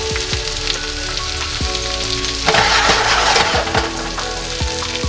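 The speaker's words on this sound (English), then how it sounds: "chili butter garlic shrimp is ready. You can see the sizzling." Chili butter garlic shrimp with chopped dill sizzles steadily in a pan, a close, continuous frying crackle with small pops that swells briefly louder midway.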